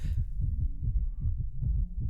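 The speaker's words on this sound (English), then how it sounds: "I can feel my heartbeat pulse through my entire body." Pounding heartbeat sound effect, a steady rapid series of deep low thumps repeating in an even rhythm, loud and close with no other sounds.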